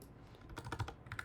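Fingers type on a computer keyboard that is wearing out, a quiet run of close, quick clacking keystrokes with no talking.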